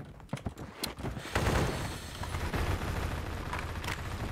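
Gunfire from a gun fitted with a muzzle brake in the Phantom Forces video game, starting as scattered close shots then merging into a dense, sustained burst of rapid fire that holds steady to the end.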